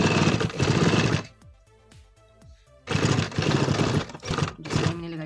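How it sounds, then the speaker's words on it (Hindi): A sewing machine stitches narrow piping onto a baby boy's kurta, running in a fast, close whirring burst, pausing for a second or so with small handling clicks, then running again steadily. "थोड़े से आगे तक मैंने सिलाई लगा दी है"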